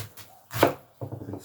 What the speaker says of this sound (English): Cutting that taro, guys. Just gonna cut them round